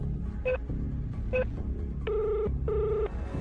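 A phone call is dialled and rings: two short electronic tones, then two longer buzzing rings, clear and close over a low background rumble.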